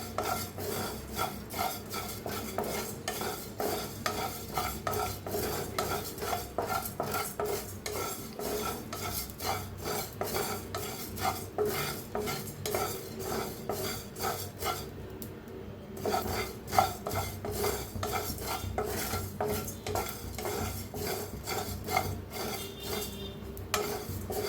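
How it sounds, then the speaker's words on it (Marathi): Whole spices for garam masala dry-roast in a pan, stirred nonstop. A dense, rhythmic scraping and rasping of a spatula against the metal goes on for the whole stretch, with faint sizzle and occasional brief pauses. "भाजा मग छान भाजलं जातं।"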